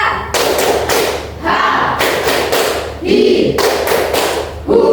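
A classroom group claps hands together in rhythmic bursts, loud and close, with short pauses between sets of claps as they follow a counting pattern.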